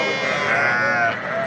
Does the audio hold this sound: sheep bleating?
yes